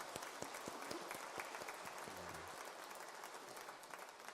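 A congregation at a Catholic Mass gives faint, scattered applause that thins and fades within a few seconds, heard from a distance in a quiet church.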